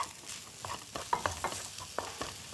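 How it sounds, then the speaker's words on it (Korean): Vegetables and rice for shrimp fried rice are stirred in a hot pan, a soft sizzle broken by a series of quiet scraping, tossing strokes in an uneven rhythm. "한 번에 맛과 건강을 동시에 잡는 채소 가득한 볶음밥 만들어지고 있네요"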